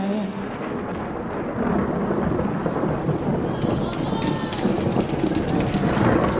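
Steady heavy rain pours down with a deep rumble of thunder rolling underneath, loud and continuous throughout.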